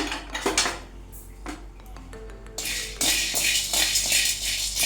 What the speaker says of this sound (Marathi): आता आपण यामध्ये वाटाणा भाजून घेऊ